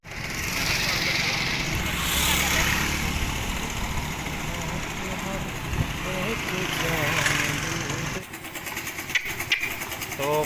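A motorbike engine rumbles while riding through village lanes, a continuous low drone with wind and road noise, briefly dropping near the end as people talk over it.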